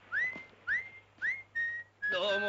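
A person whistles a tune in a Japanese boxing anime, the character leaving juvenile prison; three rising whistled phrases, then a held note, before a brighter, fuller musical burst at the end.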